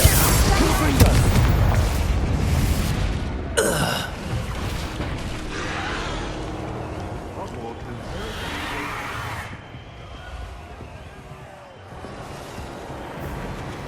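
Fire spell cast in Hogwarts Legacy, a loud whooshing burst of game effects with a sharp flare near the start of the second quarter, layered over dense in-game sound and continuing crackle that fades toward the end.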